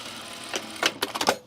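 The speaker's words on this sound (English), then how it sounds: "we're gonna sew the top collar" A sewing machine stitches the pieced top collar of an unlined blazer in a short, close run of quick rattling bursts, picking up speed over about a second with no talk.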